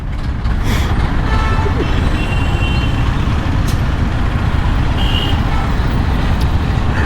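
Dense road traffic in Pune near Hinjewadi, heard from a moving bike: a steady, loud roar of engines and wind with faint horn-like tones and a brief high beep, continuous throughout.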